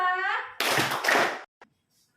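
Classroom children in a clap-along attention game clap in a quick burst, crisp and close. A teacher's voice comes before it, and a lone tap follows.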